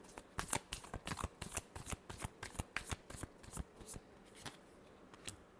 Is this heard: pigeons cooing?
no